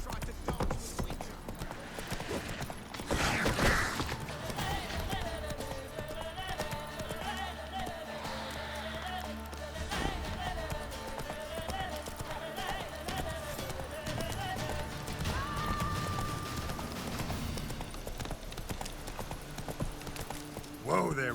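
Roach the horse galloping in The Witcher 3, steady clip-clop hoofbeats running through the whole stretch under game music, with a voice speaking over it in places.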